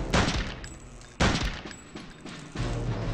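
Gunfire from an MP40 submachine gun in the Android version of the Return to Castle Wolfenstein shooter game, loud bursts of shots arriving in several sharp volleys with no voices over them.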